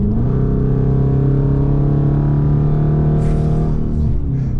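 A powerful car engine revs hard and loud up close, its tone climbing steadily, then a brief screech near the end as the tires slip.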